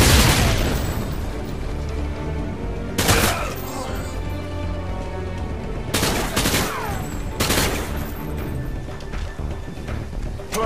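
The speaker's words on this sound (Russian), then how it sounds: "Кидаю гранату!" Gunfire and blasts from Modern Warfare 2 during a thrown-grenade moment, with loud sharp bursts at about 0, 3, 6 and 7.5 seconds rising over continuous battle noise.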